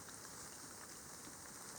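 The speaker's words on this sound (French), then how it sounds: "il fait 5 degrés et il pleut" Rain falls steadily in cold five-degree weather outdoors, a soft, even hiss at low level with no voices.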